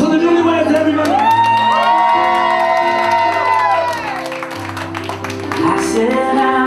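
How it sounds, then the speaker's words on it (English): Wedding guests cheer, whoop and shout with some applause for the newlyweds, a loud, lively crowd swell running under prominent music. "Round of applause for the newlyweds"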